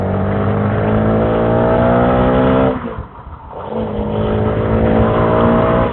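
A motorcycle engine revs loudly and close under an opened throttle on a motovlog ride through Karabük's Cevizkent and Aydınlıkevler. It drones steadily, dips sharply for a moment, then climbs back to a sustained roar.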